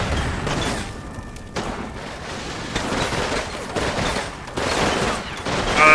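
Machine gun fire and scattered explosions rattle in a Combat Mission video game battle against a German last-ditch defense, dense overlapping bursts at a middle distance.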